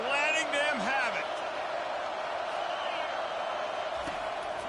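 A large football stadium crowd roars and jeers at a visiting team pinned deep in its own end, a sustained loud wash of voices with a whistling rise near the start.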